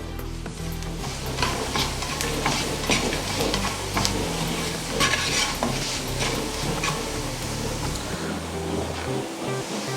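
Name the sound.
stirring chili powder and garam masala into bonda mixture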